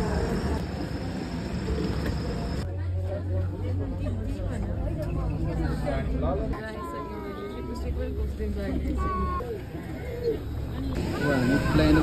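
Crowd babble fills the interior of an international airport terminal in Nepal, a moderate murmur of many voices with nearer people talking over it and a low mechanical hum in places.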